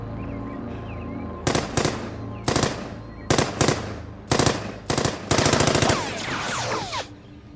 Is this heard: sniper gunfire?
yes